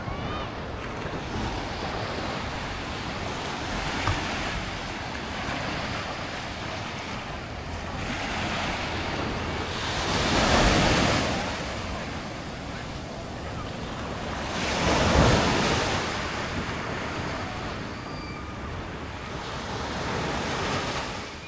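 Sea waves roll onto the sandy beach at Bolinao, Pangasinan, a steady wash of surf with two louder breakers swelling midway, mixed with wind buffeting the microphone and no talking.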